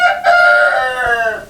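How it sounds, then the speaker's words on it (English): A rooster crows loudly and close by among farm chickens, one long drawn-out cock-a-doodle-doo call that fills the whole moment, with no talk over it. "You have chickens and roosters too, I can tell."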